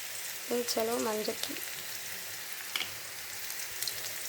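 Steady sizzling of bitter gourd frying in hot oil, with a short burst of a voice near the start and occasional faint clinks.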